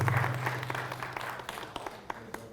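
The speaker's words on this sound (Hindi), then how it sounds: "इस तालियों में तो बहुत जोर आना चाहिए" Audience applause at a Arya Samaj annual celebration in a hall, a steady wash of clapping with scattered sharper claps that gradually thins out over a faint low hum.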